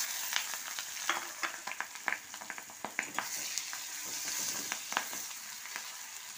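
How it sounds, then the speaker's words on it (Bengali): Two chopped onions frying in oil for an egg do pyaza, a continuous close sizzle broken by frequent sharp stirring clicks and scrapes of the spoon against the pan, with no speech. "আমি দুটো পেঁয়াজ কেটেছি দিয়ে দিলাম।"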